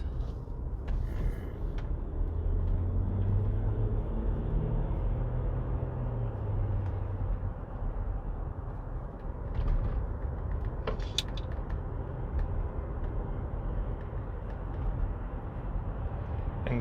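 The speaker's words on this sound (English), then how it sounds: "now it's time to take the car onto the motorway so that we can see how quickly it accelerates and how quiet it is on higher" Land Rover Discovery 4 3.0 TDV6 HSE 7-seater SUV pulling onto a motorway and gaining speed, with a steady low engine drone and road rumble heard from inside the cabin and a few faint creaks.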